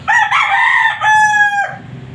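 A loud, close rooster crow, one long drawn-out call with a brief break partway, standing alone without any talk.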